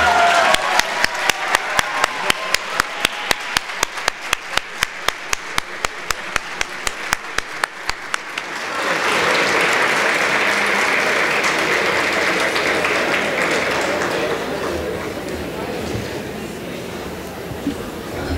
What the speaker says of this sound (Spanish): Los aplausos son para Claudia Paz y Paz, no se vayan a confundir, por favor